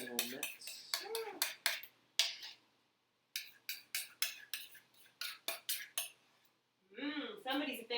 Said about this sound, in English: you're going to want to stir that